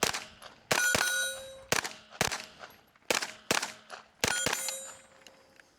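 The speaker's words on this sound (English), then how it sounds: "We've got all our hits on the first piece of steel." Pistol bullets strike steel shooting targets, giving sharp ringing clangs in quick bursts, each hit followed by a decaying metallic ring, with no talk.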